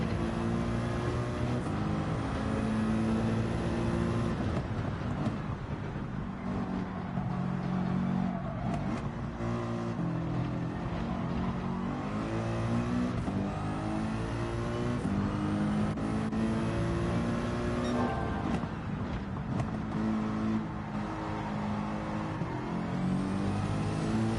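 A Mercedes-AMG GT3 race car engine in Gran Turismo 7, a loud continuous roar rising and falling through gear changes and revs, with no talking.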